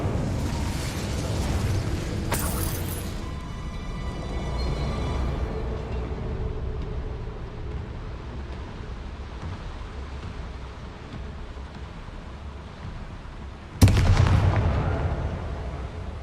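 An Incendio fire spell in Hogwarts Legacy bursts out twice: a sharp whooshing blast followed by a long fading rumble, then a second sudden loud burst near the end.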